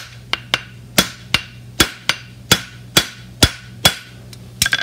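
A blacksmith hammers a 3/4 fullered front horseshoe on the round side of an anvil, striking a steady run of about a dozen sharp, ringing metallic blows, close and loud, with a faint hum beneath and no voices.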